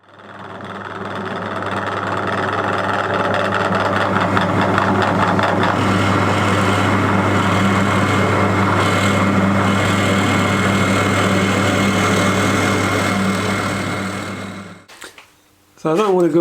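A steady motorized drone of a drill boring into a wooden bowl on a lathe runs continuously for about fifteen seconds, grinding at a constant pitch, then cuts off abruptly with a brief clatter.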